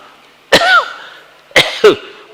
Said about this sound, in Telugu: దగ్గొచ్చి దగ్గుతూ ఉన్నాను